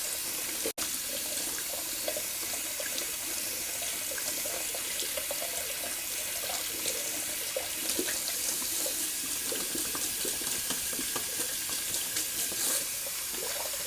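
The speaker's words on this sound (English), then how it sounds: "Just going to rinse out this Body Shop brush so you can get a better look at it." Water running steadily from a tap as a synthetic-knot Body Shop shaving brush is rinsed under it, a continuous close splashing hiss with small irregular splatters.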